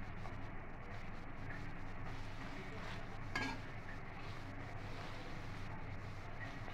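Taro stolon fritters (kochur loti bora) fry in hot oil in a pan, a soft continuous sizzle and bubbling hiss held at a low, even level, with one brief clatter midway and no talking.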